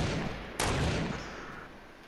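A single sharp gunshot in Fortnite cracks out over a loud, rumbling battle background and then fades into a decaying tail.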